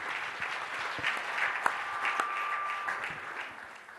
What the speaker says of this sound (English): One last round of applause, everybody.